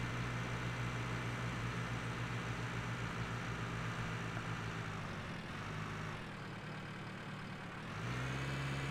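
A tractor engine idles in a cattle and crops farming video game, a steady low hum that stays constant throughout, dipping slightly for a moment before resuming, with no speech.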